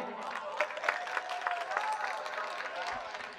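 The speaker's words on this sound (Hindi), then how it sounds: "हमारे इतने अच्छे श्रोताओं के लिए एक बार ताली बजा दें।" A live audience at a mushaira claps steadily throughout, a moderate, slightly distant patter of many hands with a few louder individual claps rising above it.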